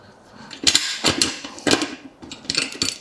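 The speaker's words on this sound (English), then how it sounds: "I'm going to come to this other side and get this nut removed." A wrench works a nut loose on a Jotul F 602 wood stove: close, loud metallic ratcheting clicks in short bursts with brief pauses between them.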